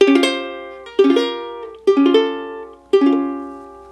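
Four plucked ukulele notes from the melody of a song ring out slowly and evenly, each struck clearly and left to fade before the next, played alone and up close.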